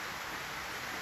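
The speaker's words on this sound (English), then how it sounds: "So we may hear some of that rain." Heavy rain pours down outside in Hawaii, a steady, even hiss of water with no distinct drops and no talking over it.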